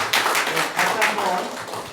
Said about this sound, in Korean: 하나님 앞에 영광의 박수 돌리도록 하겠습니다.